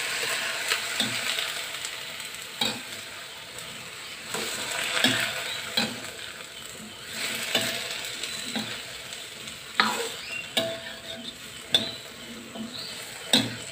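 Luffa gourd stir-frying with seasoning in a pan: a steady close sizzle broken by regular scrapes and clinks of a utensil stirring, with no voices.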